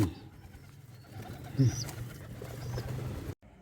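Pigeons on a window ledge, where chicks have grown up from eggs, give soft, low cooing calls close by, with a quiet voice faintly underneath.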